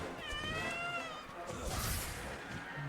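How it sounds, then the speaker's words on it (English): A cat in Monster Hunter World meows in a few drawn-out, wavering calls over steady game background noise, fairly close and clear. "The cat is meowing."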